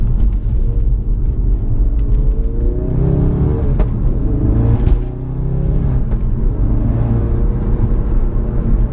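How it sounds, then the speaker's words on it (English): Ford Focus RS Mk3 with a new engine, driven hard in sport mode, gives a loud, continuous engine rumble that rises and falls with revs, broken by a couple of sharp pops on downshifts. "It pops and bangs on the downshift."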